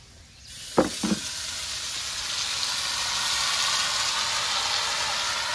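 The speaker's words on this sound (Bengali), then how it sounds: "সাবুটা দিয়ে দিয়েছি, এরপর নেড়ে চেড়ে ভালো করে ভেজে নেব" Sago pearls tipped into a pan of reddish fried potatoes land with two quick clicks, then a steady, close, bright sizzle of frying fills the rest.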